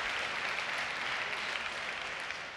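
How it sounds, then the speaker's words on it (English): An audience at a JavaScript conference talk applauds, a dense, even wash of many hands clapping together that holds steady the whole time before fading slightly at the end. "So you clapping are affecting my demo"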